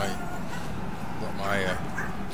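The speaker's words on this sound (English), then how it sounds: "my dog barking here." A pet dog yaps and whines in short, high bursts close by in a home, sounding over an ongoing voice and faint computer game noise.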